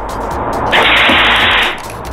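A steady hiss of spraying water from a mains-pressure cat deterrent swells up for about a second, loud and close, over a constant background rumble.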